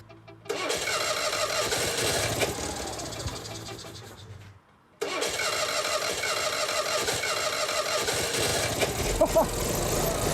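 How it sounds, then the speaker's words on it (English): An old Citroën 2CV Fourgonnette van engine cranks and catches, then runs steadily and loud for several seconds after a brief pause, a rough mechanical idle filling the space. "not least getting that engine running"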